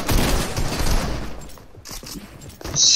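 Rapid video game gunfire bursts dominate the first second and a half, a dense crackling volley that fades, with a few scattered shots and clicks after.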